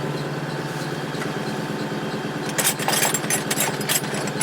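A Fordson Super Major backhoe's diesel engine runs at a steady idle with a low, throbbing chug. Partway through it turns rougher, with irregular sharp bursts from a misfiring cylinder, heard close with no talking.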